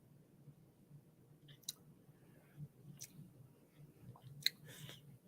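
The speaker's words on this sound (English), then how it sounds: "I just had some peanuts. I'm still chewing them." Someone chews peanuts close by, quiet wet crunching and mouth clicks with a few sharper snaps spaced across the stretch, alone without talk.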